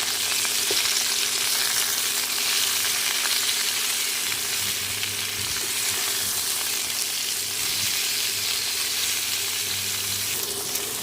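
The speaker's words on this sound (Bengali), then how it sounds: "পটলগুলো প্রায় ভাজা ভাজা হয়ে গেছে" Steady, dense sizzling of pointed gourd frying in hot oil, continuous and close throughout with a faint low hum beneath.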